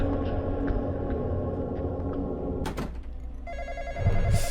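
In the Roblox game Intruder, played on hard mode, a telephone bell rings loudly in repeated rapid trills, then cuts off and gives way to other electronic game sounds and tones.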